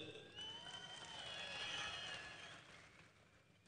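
A crowd applauds at Raj Thackeray's political rally in Raigad, a steady wash of many hands clapping that swells, holds for a couple of seconds, then fades, with no speech over it.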